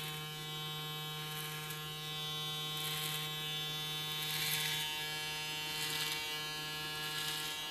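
BaBylissPRO hair clippers cut coarse curly hair in a steady electric buzz with a strong hum, swelling slightly as the blades work through the hair, close and alone without talk.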